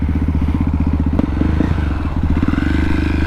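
A KTM supermoto motorcycle with a carbureted engine, ridden on the street, chugs close and loud with a rapid, steady lumpy pulse and some clattering, briefly shifting pitch on a downshift before settling back.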